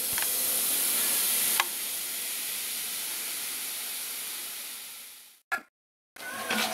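Coca-Cola boiling in a pot on the stove while being stirred, a steady close hiss and sizzle that cuts out briefly near the end, then resumes.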